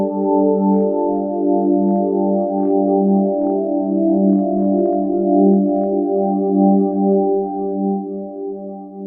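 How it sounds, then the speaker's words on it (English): Logic Pro ES2 synthesizer playing its Purity pad preset, a smooth sustained chord with a steady wash and faint shimmering pulses, alone and close for about nine seconds. "this sound is called Purity, and it's also a kind of pad"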